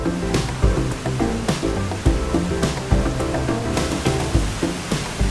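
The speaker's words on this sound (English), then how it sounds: "All this water creates some picturesque waterfalls, even if they happen to originate from drain pipes under the railroad." A swiftly flowing river with small waterfalls pouring from drain pipes under a railroad, a steady close rush of water with some splashy irregular pulses and no voices.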